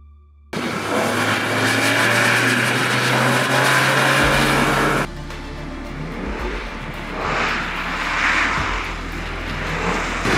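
BMW M3 driving on a track, a loud continuous engine roar throughout with a shift in tone midway as the car changes pace, close and steady with no voices.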